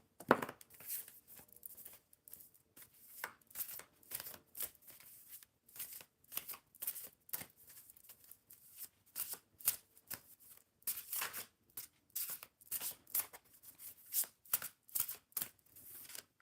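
Crystal grid oracle cards are shuffled by hand, soft close riffling bursts repeating in an irregular rhythm over quiet background, no talking.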